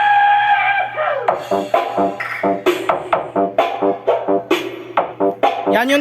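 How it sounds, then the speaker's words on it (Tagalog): A Joson Neo 10 loudspeaker, rated 600 watts, plays back vocal-led music with a steady pulsing beat. It is fairly loud and continuous, with a low hum underneath and no live talking. "Yan yung tunog ng ating Joson Neo 10."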